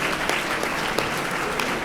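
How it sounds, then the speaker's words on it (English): Audience at an awards night in Miami giving a warm round of applause for the laureates, with dense, continuous clapping at a steady level and no voices on top. "I hope you will all join me for a warm round of applause again to congratulate all of our laureates this evening."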